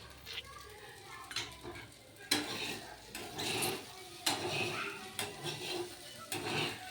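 A spoon stirs masala rice in a metal pot in a small home kitchen, giving several distinct scraping clanks in irregular bursts over a soft sizzle, with occasional quiet voices nearby.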